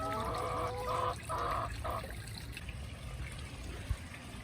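Backyard chickens cluck near a koi pond with a running waterfall, a few short calls early on over steady trickling water, then only the water continues.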